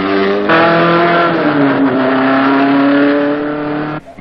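Trans Am B-sedan race cars, including a Datsun, roaring past at full throttle, a loud close engine wail whose pitch shifts as gears change and cars blend, ending abruptly.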